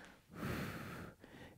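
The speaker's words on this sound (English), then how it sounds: "strong inhale, strong exhale." One strong, breathy inhale followed by a long forceful exhale during a seated, no-equipment senior workout, close and fairly quiet, with a brief sniff at the end.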